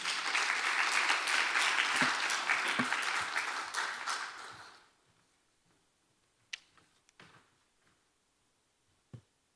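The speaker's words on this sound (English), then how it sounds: "Please welcome Harina to the stage with a big round of applause." A forum audience in Seoul applauds a speaker onto the stage, a loud dense burst of clapping lasting about five seconds before cutting off to near silence with a few scattered clicks and knocks.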